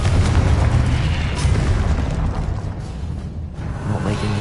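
Confringo spell blasting in the video game Hogwarts Legacy, a loud sustained explosive boom with rumbling low roar that swells and dips across the clip, no talking.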